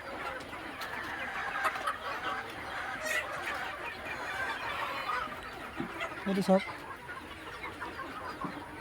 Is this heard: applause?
no